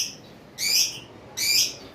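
A pair of caged pet birds for sale gives two bright, shrill chirping calls about a second apart, close and clear with no talk.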